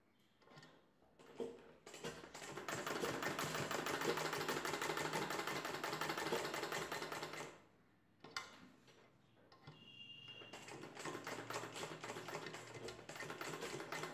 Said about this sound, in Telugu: ఇలా స్టిచ్ చేసుకున్న ఈ పీస్ని బ్లౌజ్ పీస్ పైవైపున పెట్టి కుట్టు వేసుకోవాలి